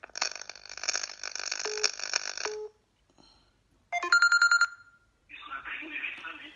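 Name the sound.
telephone ringing during call-in show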